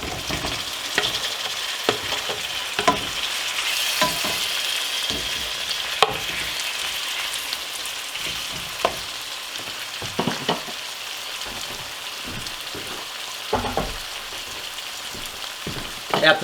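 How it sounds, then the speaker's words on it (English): Chopped tomatoes go into a pan where anchovies, onions and garlic have been frying for about ten minutes, giving a steady close sizzle broken by scraping stirs and clatters, with no talking. "We've had our anchovies, onions, and garlic going now for about 10 minutes. I'm going to add some tomatoes."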